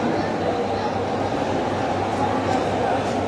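Busy Howrah railway station hums with a dense, steady rumble of trains and crowd noise. It stays loud and continuous throughout, with people talking mixed into the din.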